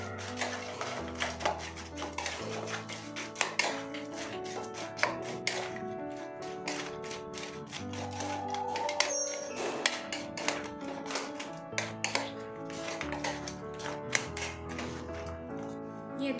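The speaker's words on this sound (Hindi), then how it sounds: "अब इसको मिक्स करेंगे।" Soya chaap chunks tossed with momos chutney in a bowl give a steady run of light taps and clinks from a utensil against the bowl, with soft thuds, under a continuous tonal music bed.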